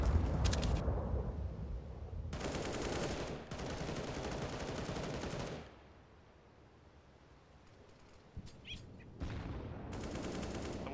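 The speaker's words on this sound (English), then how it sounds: "That's a shot, be careful." Gunfire rips through a Counter-Strike match on the Overpass map, loud rapid bursts of automatic shots in two long volleys, then a quieter gap with faint clicks before another burst starts.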